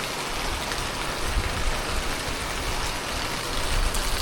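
Heavy monsoon rain pours steadily on a trek near waterfalls and a hill fort, a dense continuous hiss with a low rumble and no voices.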